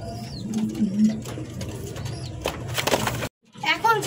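Black Lahori running pigeons coo in a low, repeated murmur under steady talk, with brief louder knocks and a short dropout near the end.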